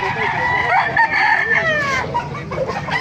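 A large rooster about ten months old crows loudly and close at a poultry market, its long drawn-out call repeated over steady background chatter and clucking from other fowl.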